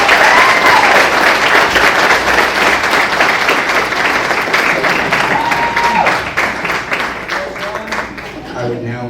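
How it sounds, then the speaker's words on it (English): Audience at a 2017 co-curricular awards ceremony gives a long, loud round of applause, dense steady clapping with scattered whoops and voices, tapering off toward the end. "just huge round of applause for him"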